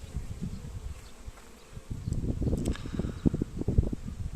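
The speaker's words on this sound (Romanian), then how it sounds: "albina care s-a îngrămădit la sită jos" A dense, continuous buzz of many honeybees swarming close by at a closed hive's screen, growing louder and busier partway through, with soft rustling underneath.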